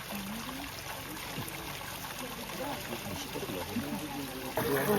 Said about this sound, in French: ici c'est l'eau qui coule du bassin